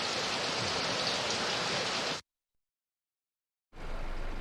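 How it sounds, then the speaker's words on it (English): Steady rain hisses down in a broadband wash for about two seconds, cuts to total silence, then resumes abruptly; no voices are heard. "Looking at the rain."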